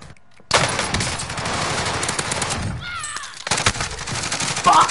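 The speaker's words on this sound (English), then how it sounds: "Lad, they're shooting at me now" Sustained automatic gunfire in Call of Duty: Warzone, a loud continuous rattle of shots starting abruptly, briefly easing, then resuming with sharper bursts, with a voice faintly underneath.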